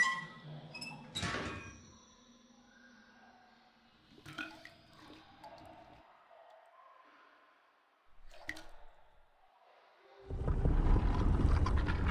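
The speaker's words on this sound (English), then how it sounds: "pull the little lever to reveal the door" In the game Riven, a small lever clicks, followed by a hidden door grinding and sliding open with scattered creaks and clunks, ending in a loud rushing rumble; no one speaks.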